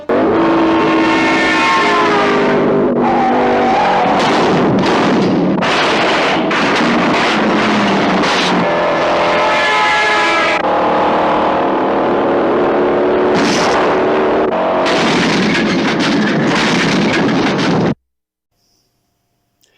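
Loud engines roar and rev with sharp gear changes and screeching bursts, several cars racing close by in the 1968 film Bullitt's San Francisco car chase, continuous for most of the clip before cutting to silence.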